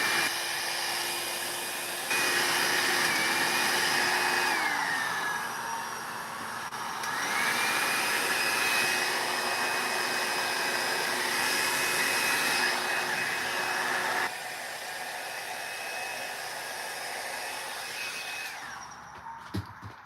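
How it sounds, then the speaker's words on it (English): A small craft heat tool blows hot air with a steady, close whirring hiss. The pitch shifts and drops a few times as the tool changes speed, and it stops near the end. "So now we can go in with our little heat tool again."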